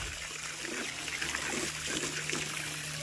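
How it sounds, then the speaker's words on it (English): Water trickles and splashes steadily into a container being filled with fresh drinking water for animals on a small family farm, a continuous close pour with no talking. "trying to fill up this water real quick"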